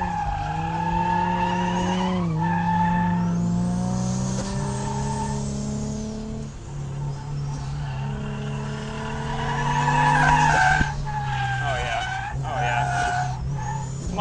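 A turbocharged Miata on a race track squeals its tires through drifting slides while the engine revs up and down loudly, heard from the cockpit as a driver talks over the noise.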